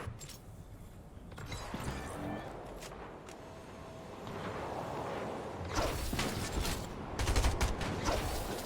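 Video game gunfire and combat effects play at moderate level, with bursts of shots and whooshes building in the second half, as a voice talks over the action.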